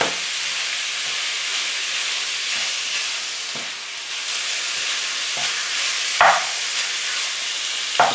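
Onions, garlic and mushrooms fry in a pan for homemade lasagne, giving a steady, close hiss and sizzle with a few soft knocks and scrapes from stirring.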